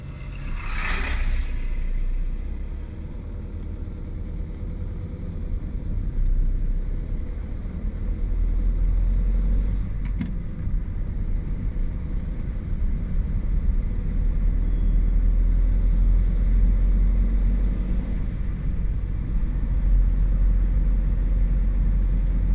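A car drives through the Agumbe Ghat on a monsoon road trip in heavy rain, its engine and road noise forming a steady loud rumble that continues for the whole stretch, with no talking.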